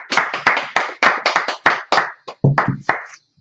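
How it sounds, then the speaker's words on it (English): Congregation at a Sabbath service clapping in a steady rhythm, roughly a dozen sharp, close hand claps in quick succession, ending in a brief pause. "Clap it up."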